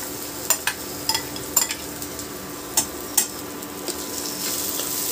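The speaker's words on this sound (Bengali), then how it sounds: "চালটা 2-3 মিনিট একটু এই গরম কড়াইতে ভেজে নেব।" Washed basmati rice for basanti pulao frying in a hot kadai with nuts and raisins, a steady sizzle broken by several sharp spoon-scrapes and stirring clinks against the pan.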